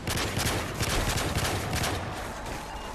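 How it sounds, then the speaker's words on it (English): Dense, continuous gunfire fills Call of Duty: Modern Warfare 3 Special Ops co-op play, with rapid overlapping bursts that sound loud and close and run steadily without a break. "Not sure how none of my bullets hit that guy."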